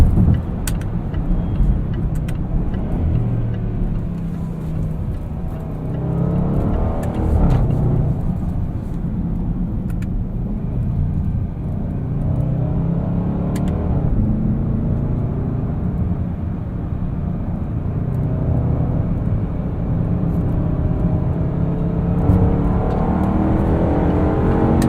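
A 2018 Range Rover Sport with its supercharged V8 drives along in manual mode, the engine note rising and dropping steadily as the paddle shifters snap through quick gear changes, heard from inside the cabin.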